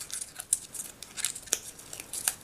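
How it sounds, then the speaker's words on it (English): A strip of notebook paper crumpled between fingers gives soft, faint crinkling and crackling in small irregular bursts, close and quiet with no voices. "I'll use my fingers to crumple it up a little bit."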